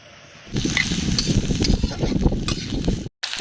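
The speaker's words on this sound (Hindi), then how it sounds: "कढ़ाई में मैंने तेल डाल दिया हुआ है और तेल हमारा हो गया है गरम। तो अब हम इसमें डाल देती हूँ प्याज।" Onions drop into hot oil in a kadhai and fry with a loud, close crackling sizzle, a faint clink of metal now and then and a brief cut near the end, with no talk.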